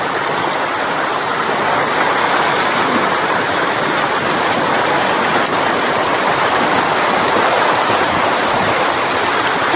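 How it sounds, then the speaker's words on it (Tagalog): Deep floodwater rushes and churns steadily around someone wading through it, a loud, continuous broadband wash like surf or a stream, with no talk over it. "Ang lalim ng tubig. Parang dagat ka dito."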